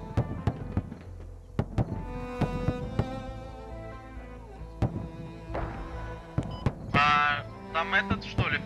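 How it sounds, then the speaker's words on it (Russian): Machine gun fire in the military shooter game Squad. Scattered sharp gunshot cracks and short bursts come at uneven intervals, some near and loud, others fainter. A few brief buzzing electronic tones sound near the end. "Так, там стрельба идет. Пулемет работает."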